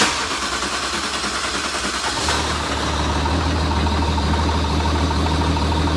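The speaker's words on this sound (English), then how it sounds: "we'll crank it over again and we'll watch our fuel pressure" An engine cranks for about two seconds, then catches and settles into a steady, rough idle while running on only five cylinders; loud and close with no talking.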